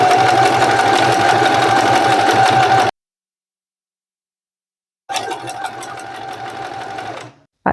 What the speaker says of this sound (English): Back at the sewing machine, using a small stitch length, I'm just going to stitch that hole closed